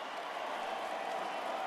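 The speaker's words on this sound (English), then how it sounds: "They've seen enough, but cheering them on their way out." A stadium crowd in the video game NCAA Football 2025, Wake Forest at Florida State, cheers in a steady, dense roar that holds at an even level throughout, with no distinct voices standing out.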